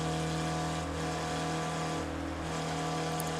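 A Spec Racer Ford race car in the iRacing game runs steadily with a constant engine drone, the throttle held back as it lifts off down a straight at Road America, loud and continuous without commentary over it.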